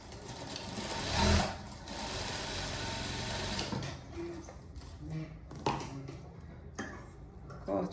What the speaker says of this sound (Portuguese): já tô com a linha aqui da cor e eu pego aqui e faço uma costura